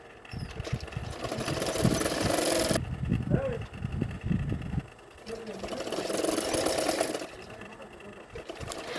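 A sewing machine stitches a blouse belt piece in two steady whirring runs with a short pause between, close and fairly loud, while someone talks over it.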